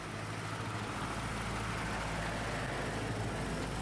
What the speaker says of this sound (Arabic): شفتو صوت المحرك ما يتغيرش لان السيرفو يتنفس